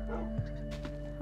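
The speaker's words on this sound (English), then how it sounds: "These are my dogs." Dogs in the video game Minecraft give a short yip and a soft whimper, faint and close over a low steady background hum, with no talk.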